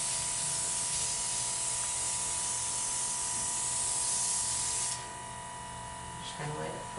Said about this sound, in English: And I like to turn the airbrush on.